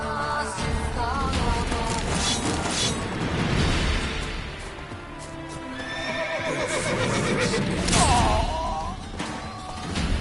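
Roach the horse in The Witcher 3 lets out repeated loud whinnies over hoof clip-clop and game combat noise, filling the whole stretch with no talking.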